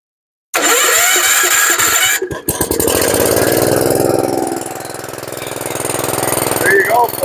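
A previously seized Gravely tractor engine cranks and catches at once, then runs loudly and steadily with a rough, throbbing idle that dips briefly before settling into a sustained roar.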